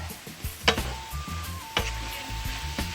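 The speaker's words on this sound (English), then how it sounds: "And then I'm gonna give it a big stir." Saltfish and kale with garlic stirred in a sizzling pan for a Jamaican dish; a few sharp utensil clanks and scrapes ring out over a steady low sizzle and a faint background hum.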